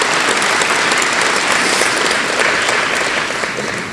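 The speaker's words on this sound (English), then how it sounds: "A big round of applause for your Board of Directors." Steady applause from a banquet crowd at a business awards gala honouring the board of directors, a dense wash of clapping that holds for a few seconds and then begins to thin out.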